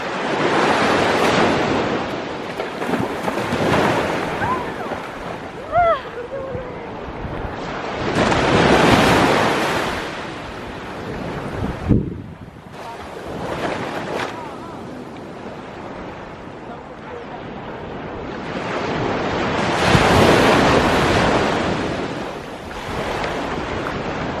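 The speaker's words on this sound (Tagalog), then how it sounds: "sobrang ganda talaga nitong dagat ng Calaguas" Sea waves surge and break on the beach at Calaguas Island, rising and falling in long loud swells with wind rushing across the microphone between them.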